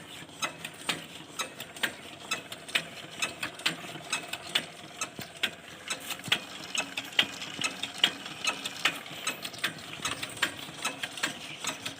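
A small water pump engine with lost compression being cranked over, giving a steady run of light, rapid mechanical clicks and ticks with no firing, close and fairly quiet.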